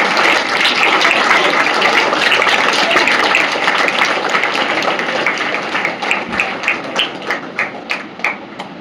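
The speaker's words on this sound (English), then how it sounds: "Please give a huge round of applause." An audience at an Independence Day school ceremony gives dense, sustained applause that thins gradually into a few separate claps toward the end.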